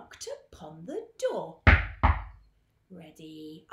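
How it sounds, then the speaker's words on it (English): Two heavy, close knocks on a door during a children's role-play and drama session, struck about half a second apart, with voices before and after. "Who knocked upon the door?"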